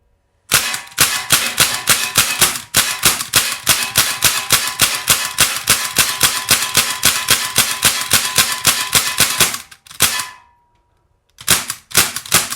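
Rapid bursts of shots from a Sig Sauer MCX ASP .177 CO2 pellet rifle, loud and close, dozens of sharp cracks in a fast steady rhythm for about nine seconds, a short pause, then a few more shots at the end.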